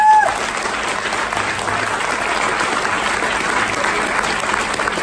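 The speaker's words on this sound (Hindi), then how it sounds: "जोरदार तालियों के साथ स्वागत करें मिस्टर राजेंद्र प्रसाद जी के लिए" Loud, sustained applause from a crowd at a Safe Shop gold level achievement event, welcoming Mr. Rajendra Prasad, steady and dense for the full stretch.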